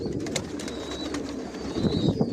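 Pigeons in a racing pigeon loft of master and running pairs coo softly and continuously up close, with a few brief chirps over a low, steady background.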